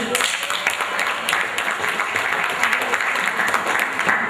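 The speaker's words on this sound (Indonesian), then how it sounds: "Tepuk tangan dulu" An audience at a campus orientation event bursts into steady, dense applause, many hands clapping together close and loud for several seconds without pause.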